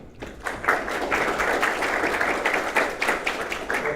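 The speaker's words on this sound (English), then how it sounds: "if you could give him a round of applause as he comes on up" An audience at an academic seminar applauds as the speaker walks up to the stage, with several seconds of moderately loud, uneven clapping from a medium-sized room and no talking.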